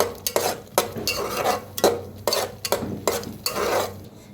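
Masala paste being roasted and stirred in a pan for katachi amti, with repeated scraping strokes of a spoon against metal in an uneven rhythm, close and clear over a faint sizzle, with no talk.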